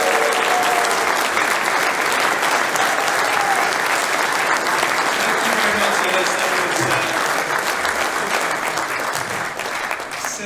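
A tyre industry conference crowd gives loud, sustained applause as the association's national chairman takes the stage, a dense wall of clapping with cheering mixed in that holds steady for about ten seconds before easing slightly.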